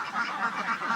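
Laying ducks kept confined in a duck house, a flock of about 500, fill the space with a steady, dense chorus of overlapping quacks at close range with no pauses.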